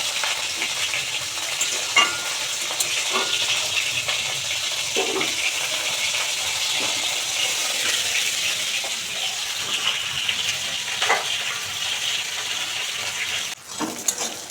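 Fish curry with onion and tomato bubbling in a pan on a home stove, a continuous soft sizzle and simmer with a few faint clinks, close by and without speech.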